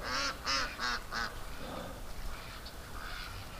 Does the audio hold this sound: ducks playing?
yes